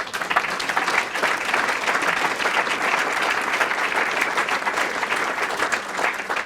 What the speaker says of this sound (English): Applause for all of those folks.